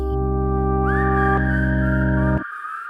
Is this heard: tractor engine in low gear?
no